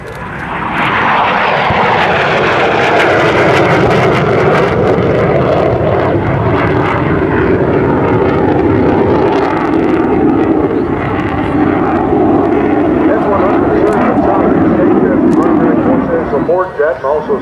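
An F-100 Super Sabre jet makes a low pass at an airshow, a loud sustained roar that swells and shifts in pitch as it goes by, with an announcer speaking over the engine noise.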